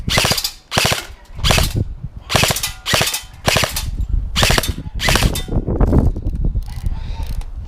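A G&G CM18 MOD1 airsoft rifle fires in rapid full-auto bursts, about eight sharp rattling strings of shots with short pauses between them, close and loud.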